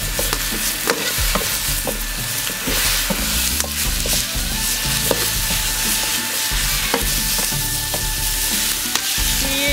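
Chicken legs sizzle loudly in a hot iron wok as they are stir-fried, with a dense continuous frying hiss and frequent knocking scrapes of the spatula, close by with no talk.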